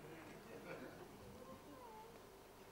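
A faint cat meows once, drawn out and rising, partly buried beneath people talking in a quiet room.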